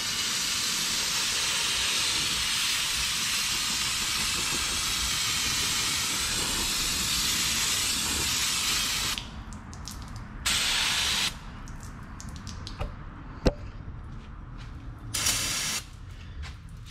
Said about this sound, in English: Hit this with some brake clean.